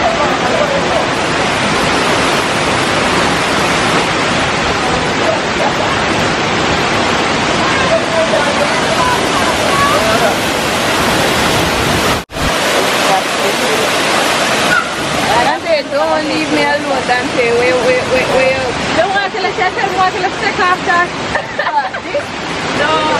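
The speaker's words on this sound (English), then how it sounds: "Finally reach waterfalls." Reach Falls, a waterfall in Jamaica, roars with a steady, broadband rush of falling water, close and loud throughout, with faint talk in the background.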